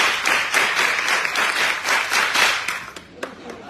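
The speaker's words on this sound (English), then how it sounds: "I think that was an amazing clap" An audience claps in unison for a rhythmic gender clap, a dense, loud wash of hands with steady pulses that thin out into a few scattered claps at the end.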